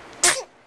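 A young child gives one short, sharp sneeze, close and loud, then the sound falls away to quiet.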